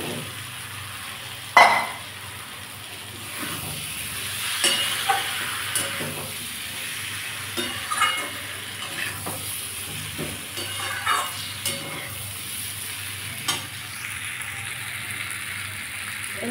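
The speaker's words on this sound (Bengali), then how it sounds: "আমি এবার এর মধ্যে ভাজা পটলগুলো দিয়ে একটু কষে নেব" Fried pointed gourd being sautéed in a pan with a thick fish curry masala, a low continuous sizzle and hiss with irregular clanks and scrapes of a spatula stirring, close and with no talk.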